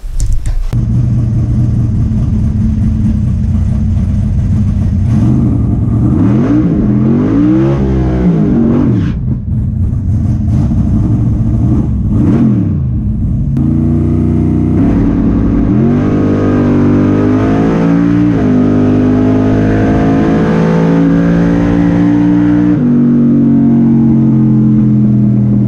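Race car engine heard from inside the car at a Fontana race, revving hard and loud with rising and falling pitch sweeps, sustained roaring throughout with brief gear-change dips.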